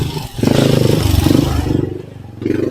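Motorcycles of customers arriving at a roadside siopao and canton food stall, engines idling and revving close by in a steady pulsing drone that dips briefly and swells again.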